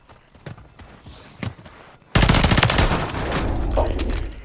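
Video game gunfire: a few scattered shots and footsteps, then a sudden loud, sustained burst of rapid automatic fire and explosions that keeps going.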